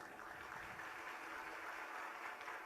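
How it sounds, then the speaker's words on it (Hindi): Applause from a religious discourse audience at Bageshwar Dham in Chhatari, Bulandshahr, a faint, distant, steady patter of many hands clapping throughout. "बहुत सुंदर, ताली बजाओ।"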